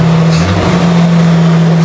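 A rare, restored Dodge B3 pickup truck's engine runs loud and close as the throttle is pressed, a steady deep droning hum that holds without a break.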